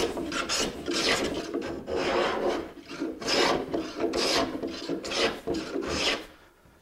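A rasp files down a wooden leg of a podium book stand in a home shop, a steady run of rough back-and-forth strokes, close and fairly loud, with no talking.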